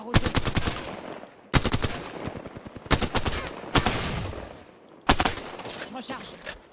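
Automatic gunfire in the video game Apex Legends, loud rapid bursts of shots in four clusters separated by short gaps, each burst rattling off quickly and then tailing away.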